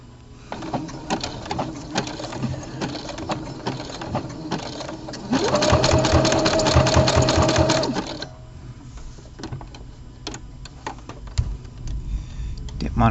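Sewing machine top stitching along a serger seam, running steadily at close range with a louder, faster burst in the middle, under a person talking.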